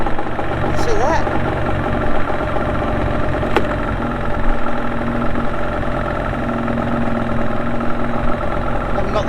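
A Yamaha 25hp outboard motor idles with a steady, loud, rumbling drone throughout, with a faint tick standing out once over the continuous engine note.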